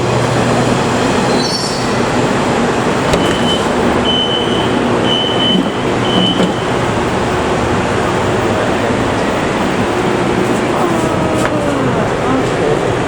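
LRT light rail train running on track between USJ7 and Pandan Jaya via Putra Heights, heard from inside as a loud, steady rumble with faint wheel squeals and tones, and voices in the background.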